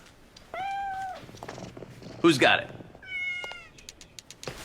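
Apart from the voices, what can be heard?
cats meowing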